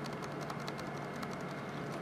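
A single key on a computer keyboard is pressed over and over in quick, regular taps, faint against a steady background hum with no talk.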